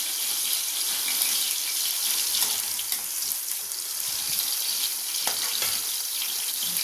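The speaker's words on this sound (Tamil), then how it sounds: "வெங்காயம் வந்து நல்லா வதக்கி விடணும்" Onions with a little mint sauté in a pan for a Tamil mutton, cauliflower and green pea curry, giving a continuous bright hiss of frying with occasional faint stirring scrapes and no voices.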